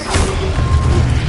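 Incendio fire spell cast in Hogwarts Legacy, a dense roaring burst of flame with a low rumble that holds steady and loud through the short moment, with no voices.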